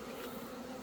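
Honeybees, both Asian and Western, buzz in a steady, dense hum around backyard hives. The sound is faint and continuous, with no voices.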